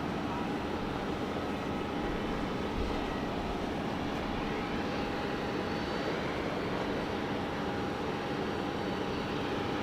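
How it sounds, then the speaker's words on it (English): Steady, continuous roar of a Singapore Airlines Airbus A380 jet on the ground at Sydney Airport, a broad unbroken engine rumble with a faint whine, heard from a distance with no voices. "Oh, and an A380 just got pushed back."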